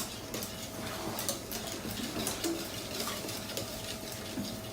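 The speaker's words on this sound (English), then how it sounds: "Just keep stirring it." Eggnog stirred in a pot over medium heat, with a spoon making soft repeated scraping and light clinking against the pot at close range, alone and without talk.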